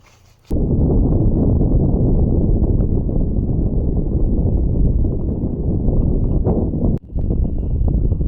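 Strong, roaring storm wind buffets the microphone continuously during a bike ride in New Mexico, loud and close, with a brief cutoff near the end.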